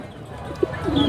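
Pigeons, including red checker birds, cooing at the crowded Tongi pigeon market, with a couple of short, soft coos rising over a steady murmur of people talking nearby.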